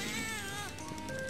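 A cat creature in the video game Monster Hunter Freedom Unite meows in a short, tonal, rising-and-falling call, fairly loud over steady game background sound.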